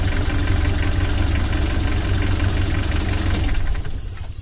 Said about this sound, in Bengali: ইঞ্জিনটা অনেক ভালো আছে, এক্সট্রা কোনো নয়েজ নাই, সাউন্ডটা অনেক সুন্দর।